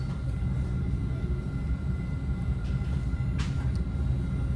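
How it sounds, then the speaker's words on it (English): A northbound weekend local Caltrain electric EMU pulls into Menlo Park station, with a steady low rumble and a faint high whine inside the car and a brief hiss near the end. "Here we are pulling into Menlo Park Station right on time."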